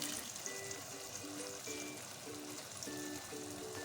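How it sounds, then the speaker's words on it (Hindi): Water poured into biryani masala of tomatoes, green chillies and yogurt in a pan, a soft steady trickle and splash with a faint background hum, no talking. "थोड़ा सा पानी ऐड करूँगी"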